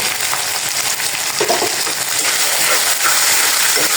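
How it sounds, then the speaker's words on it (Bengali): A spice paste of chili powder, turmeric and salt sizzles steadily as it is sautéed in a pan for an eggplant dish, a constant bright hiss with occasional soft clinks and a faint voice in the background. "এই যে মশলাটা কষানো হচ্ছে"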